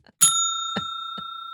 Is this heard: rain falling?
no